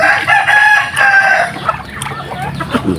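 Chickens crow and cluck loudly and close by while being fed, with a drawn-out crow at the start followed by overlapping clucks and squawks.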